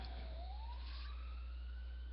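An emergency vehicle siren passes in the street, a faint, distant wail sweeping upward in pitch over a steady low background hum, with no voices.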